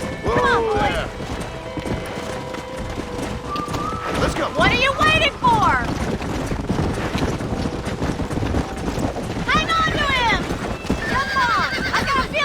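Horses neigh and whinny repeatedly in a Red Dead Redemption gameplay scene, with clip-clopping hooves and game character voices shouting over a busy, loud mix.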